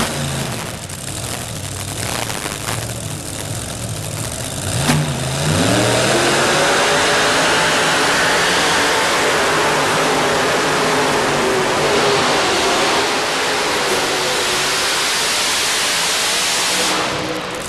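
A modified pulling tractor running on two engines at a 1995 tractor pull in Louisville, Kentucky, rising from a rumble to a loud, sustained roar that climbs and holds for most of the run.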